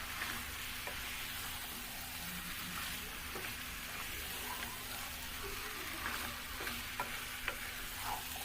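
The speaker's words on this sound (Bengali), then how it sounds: "মাংসটা দিয়ে মশলাটা দিয়ে ভালো করে উল্টিয়ে পাল্টিয়ে মশলার সাথে মাংস মিক্সড করে নেব।" Duck meat tossed with spice paste in a hot pan gives a steady sizzle, with a spatula scraping and turning it in repeated soft strokes. Occasional sharper clicks rise above the constant frying hiss, and no one speaks.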